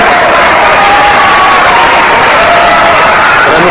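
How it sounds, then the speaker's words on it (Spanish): A theater audience applauds continuously and loudly, a dense unbroken wash of clapping from a large crowd that fills every moment without a pause. "recibámosla con el más caluroso de los aplausos"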